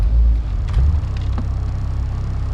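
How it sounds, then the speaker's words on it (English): Loud K-swapped first-generation Honda CR-V running nearby, a deep low engine rumble with a couple of heavier surges early on, settling into a steady throb. "Spanky is quite terrified of this car. As you can see, it's a bit too loud for him."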